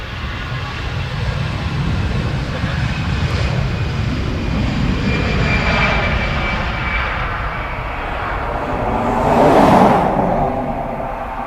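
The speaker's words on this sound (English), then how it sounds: "we'll be able to pan to WestJet coming around the corner" A WestJet Boeing 787-9 Dreamliner taxis around a corner at Dublin Airport, its engines a steady whining roar that swells louder near the end as it draws closer, then eases slightly, with no voices.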